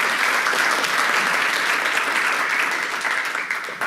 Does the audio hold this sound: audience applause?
yes